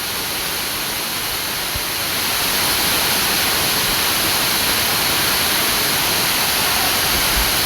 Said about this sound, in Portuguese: Lá na frente tem a segunda cachoeira